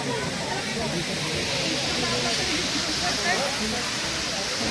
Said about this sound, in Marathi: आता हे वॉटरफॉल वगैरे किती भारी वाटतं बघा